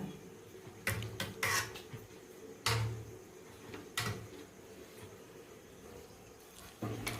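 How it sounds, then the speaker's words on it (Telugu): A spoon scrapes and taps against a pot while rice is spread in an even layer over chicken for dum biryani, giving several sharp clinks over a quiet kitchen background. "రైస్ వేసుకొని మొత్తం ఇలా సమానంగా చదురుకోవాలి చికెన్ పైన."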